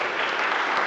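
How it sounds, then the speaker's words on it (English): Applause from an audience at a wind band concert, a dense, steady wash of many hands clapping together, loud and continuous for a brief moment with no voices. "Give him a round of applause."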